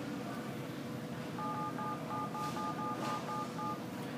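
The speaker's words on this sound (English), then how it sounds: "Next, dial the number you wish to call," Dial pad tones on an LG G3 smartphone sound as a quick series of short, evenly spaced beeps while numbers are tapped in, over a steady background hiss.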